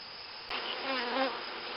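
Honeybees buzz at an opened beehive that has been smoked through its entrance during a rapeseed honey harvest; a steady, close insect drone swells suddenly partway through and carries on with no talk.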